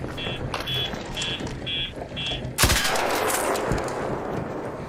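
Arc Raiders gameplay: a few short electronic beeps come first, then a single loud, close gunshot cracks out and rings off, trailed by fainter shots and rumbling game noise, with no voices.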